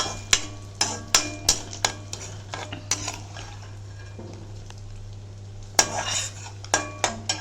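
A spoon scrapes and knocks against a pan as fenugreek powder and spices are roasted for a Mahalaya Paksha meal. The clanks come in sharp, irregular strikes over a faint low hum, close and fairly loud, with no talking.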